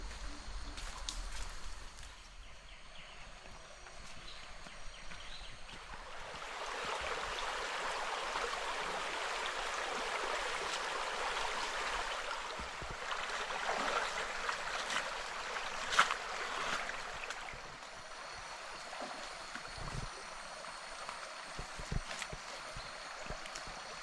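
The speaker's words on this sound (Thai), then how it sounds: "ได้ยินเสียงน้ำไหมครับผมนี่ เรามาถึงใกล้แม่น้ำและแหล่งน้ำครับผม" A river near a crossing point in thick forest, heard as steady broadband rushing water that swells louder in the middle and stays continuous and fairly distant, with occasional faint clicks and no speech.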